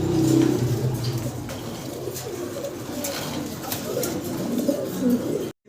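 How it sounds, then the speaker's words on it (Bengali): Baghdadi homer pigeons, one red and one black, coo in low repeated throaty calls close by, continuing steadily before cutting off abruptly at the end. "এরা বাগদাদি হোমা বাগদাদি হোমা কবুতর দেখেন"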